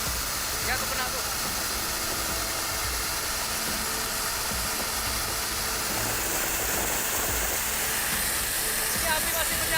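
A water cannon roars in a loud, continuous broadband hiss during a shipboard fire-fighting drill by a coast guard team, steady and close throughout with no pauses.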